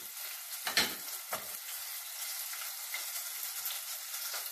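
Onion fries in hot oil in a pan for a feijoada, giving a soft, steady crackling sizzle with a couple of louder bursts near the start, close but fairly quiet.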